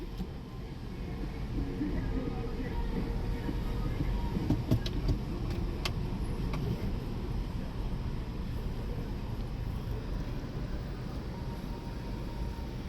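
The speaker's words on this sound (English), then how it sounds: "There's a lot of traffic today." Traffic noise heard from inside a car driving through Manhattan toward Brooklyn: a continuous low road and engine rumble with wind, steady and moderately loud, a few faint higher clicks midway and no talking.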